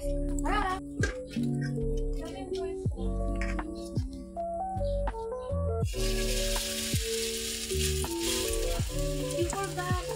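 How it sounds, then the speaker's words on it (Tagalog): Squash fritters (kalabasang okoy) frying in hot oil in a home kitchen, with a steady sizzle running under strong background music throughout and a brighter, louder hiss in the second half. "So, magpiprito na tayo ngayon, guys."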